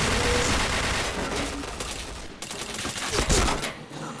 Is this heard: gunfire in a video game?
yes